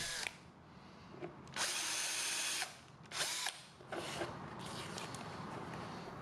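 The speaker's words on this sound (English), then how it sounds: "using the same step bit to drill a 3/8 inch hole into the black plastic trim piece" A power drill with a step bit bores a 3/8 inch hole through black plastic trim on a 2018 Honda Goldwing in several short bursts, a harsh whirring grind that starts and stops with brief pauses between.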